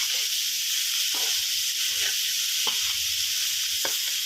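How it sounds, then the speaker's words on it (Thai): Minced pork stir-fried dry with holy basil and dried chili in a hot pan: a steady, bright sizzle runs throughout, with occasional scrapes and stirring clicks from the spatula. "ตอนนี้ใส่กะเพราไปแล้วก็คลุกเคล้าไปเรื่อยๆนะครับ"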